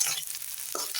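Ginger garlic paste fries with golden onions in a pan for a tangra fish curry, sizzling briskly under quick stirring scrapes in a short, close burst.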